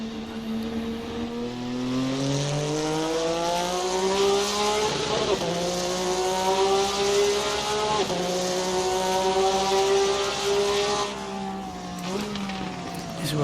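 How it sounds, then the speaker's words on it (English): A Group N GT race car engine in a racing game revs and climbs through the gears uphill, its exhaust note rising and dropping in pitch, steady and loud throughout with a few brief shifts. "so you can listen to the exhaust"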